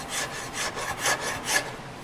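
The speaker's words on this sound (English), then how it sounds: "I would end up using a finer rasp" Steady back-and-forth strokes of a fine rasp smoothing a wooden bass guitar neck, about five rhythmic scraping passes, close and clear with no talk.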